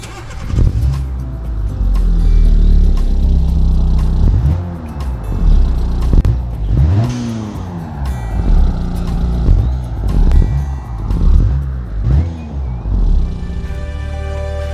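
A Rigel FurGO van in the racing game Automation drives past gear changes, its engine revving up repeatedly in rising sweeps with brief dips between shifts, loud and close throughout.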